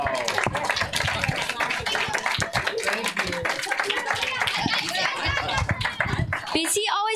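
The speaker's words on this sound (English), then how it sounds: "Could we please all get a round of applause for Mr. Spurgis?" A crowd at a fifth-grade school play claps steadily throughout, dense rapid applause with voices chattering and laughing underneath.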